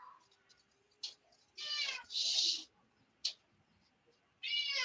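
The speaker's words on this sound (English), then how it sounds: "my cat's meowing like crazy" A domestic cat meows several times in a house, the calls drawn-out and insistent, arriving in separate bursts of varying length with short gaps between them, heard close and fairly loud with no talking.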